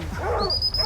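Hunting dogs give a short, high whimper, a thin drawn-out whine close by that lasts under a second, over low background rumble.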